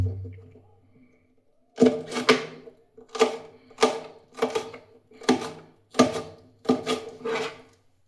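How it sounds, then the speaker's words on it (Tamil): Rhythmic crisp chopping of green chillies on a board, about ten evenly spaced knife strikes in quick succession, close up and fairly loud after a brief quiet start. "3 பச்சை மிளகா அதே மாதிரி கொஞ்சம் பொடிசாக நறுக்கிக்கோங்க"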